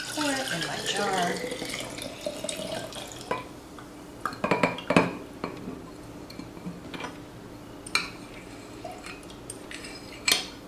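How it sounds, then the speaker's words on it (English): Homemade lemon tea tree oil cleaning solution poured into a jar, with a short trickling splash at the start followed by scattered clinks and handling knocks. "So I'm just going to pour it in my jar."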